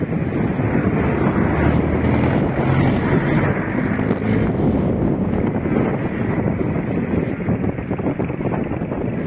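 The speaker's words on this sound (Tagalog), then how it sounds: "malakas ang hangin." Strong wind roars steadily into the microphone at Marikina River Park, a loud continuous rumbling buffet with no let-up and no voices.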